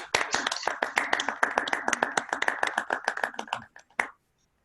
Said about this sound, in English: So Let us give our club a big round of applause for conducting all the 5 contests.